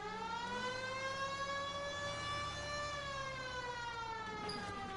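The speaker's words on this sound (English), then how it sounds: "Turn on the siren and pull her over." A police car siren in the video game LA Noire wails steadily and loudly throughout, a continuous rising and falling tone with no voices over it.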